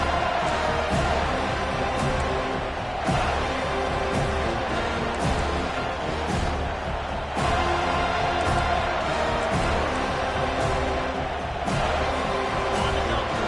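Football stadium crowd roaring steadily throughout, a dense sustained wash of noise with brief swells and sharper peaks, loud and continuous, as a home crowd tries to rattle an opposing offense during a college game.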